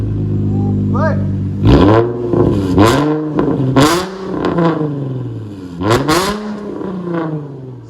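A 2006 Infiniti G35 V6 with straight-pipe exhaust and the muffler removed revs hard in several loud, rising bursts, each climbing and falling off close by, with people talking between the revs.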